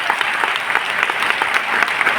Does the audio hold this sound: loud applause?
yes